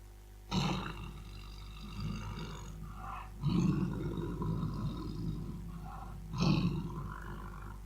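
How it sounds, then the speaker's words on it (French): A tiger gives deep, rumbling roars and growls in three surges, the first short and the second drawn out, loud and close, with nothing else heard. "Le tigre."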